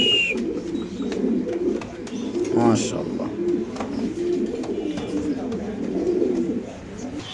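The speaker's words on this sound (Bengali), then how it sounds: "একজোড়া রানিং দামাসিন কবুতর" A pair of Damascene pigeons coos softly and repeatedly at a pigeon seller's, close by, while someone talks over them.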